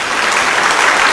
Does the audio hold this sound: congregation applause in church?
yes